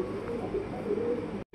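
Pigeons at a Bangladeshi pigeon market coo in a steady, overlapping murmur at close range, continuous until a sudden dropout just before the end.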